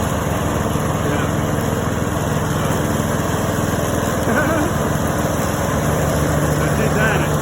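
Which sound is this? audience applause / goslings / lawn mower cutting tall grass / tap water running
lawn mower cutting tall grass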